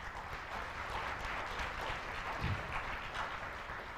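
Conference audience at a cryptography rump session applauds a speaker, a fairly soft, distant patter of clapping that holds steady for four seconds with a faint murmur beneath.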